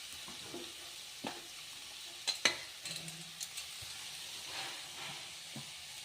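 Leftover chapati pieces hiss and sizzle quietly in a hot pan while a spoon scrapes and knocks through them in scattered stirs, a few sharper clinks standing out against the soft frying.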